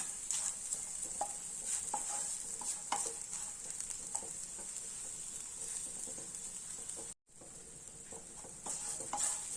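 Vegetables sauté in a pan over a low flame with a steady, bright sizzle. Soft stirring scrapes and taps come through it, and there is a brief dropout near the end.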